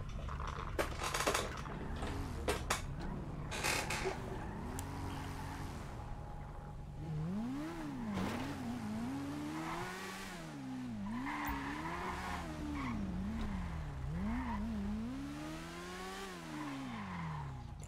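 Cars pass close by with engines revving hard, rising and falling pitch sweeps repeating over a steady roar, with tire noise mixed in, loud and continuous throughout.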